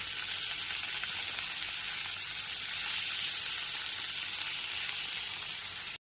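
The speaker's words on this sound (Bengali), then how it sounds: "দুটো বড় সাইজের পেঁয়াজকে আমি কুচিয়ে নিয়েছি সেই পেঁয়াজ কুচিগুলো দিয়ে দিলাম" Two large chopped onions fry in oil over a low flame, giving a steady, even sizzle that stays loud and unbroken throughout before stopping abruptly.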